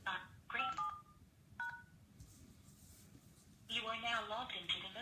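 The Mojo Dialer auto-dialer plays a few short, faint telephone dialing beeps, followed by a recorded voice speaking.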